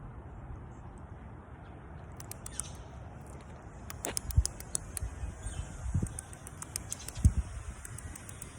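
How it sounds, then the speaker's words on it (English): Squirrels scrabbling and chattering up in a mimosa tree with birds, giving faint scattered clicks and patter over a steady outdoor background hiss, with occasional sharper ticks. "Y'all hear the squirrels?"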